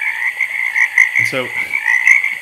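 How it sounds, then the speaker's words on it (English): Frogs croaking: a steady high chorus runs throughout, with a louder, rapidly pulsed croak rattling out near the middle. No one speaks. "And so here's some frogs."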